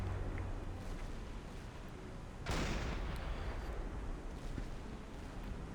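A sudden loud explosive blast in the submarine video game Silent Hunter 5 bursts out midway, followed by a sustained rumbling roar over a steady low background hum.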